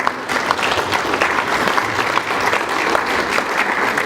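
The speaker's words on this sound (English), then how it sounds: "A big round of applause." An audience applauds the editor of a Bernie Wrightson art book at a talk, steady, even clapping from a crowd throughout with no break.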